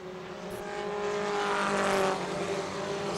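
Four-cylinder pro race cars lap a track together, engines droning steadily and swelling louder as the pack nears, with a continuous roar and faint tire noise throughout.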